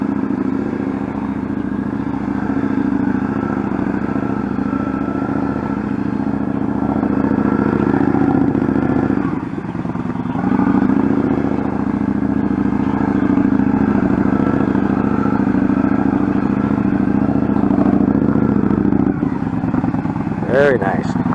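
A motorcycle putters through a slow-speed training exercise, weaving left to right, its low engine drone steady and close with brief dips and a faint clatter near the end.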